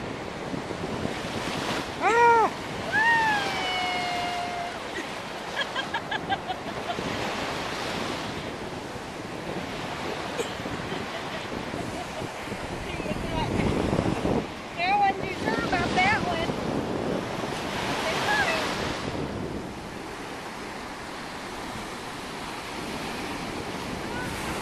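Ocean surf breaks and washes on a Florida beach in a steady roar, buffeted by heavy wind on the microphone, while voices exclaim briefly over it.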